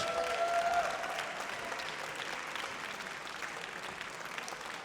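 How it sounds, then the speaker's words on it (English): Sustained audience applause for the women's singles English Open champion at a tournament final, a steady wash of many hands clapping at moderate distance with no talk over it. "put your hands together for our women's singles English Open champion, Dominika Turkovic."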